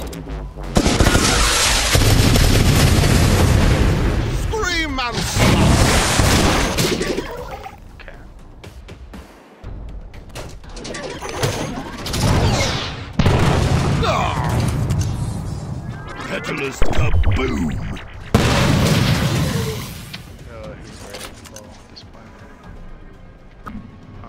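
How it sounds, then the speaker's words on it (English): An artillery barrage in the video game Atlas Reactor, with loud bursts of explosions and gunfire-like blasts arriving in dense waves, mixed with game effects and someone talking over them. "Artillery barrage inbound!"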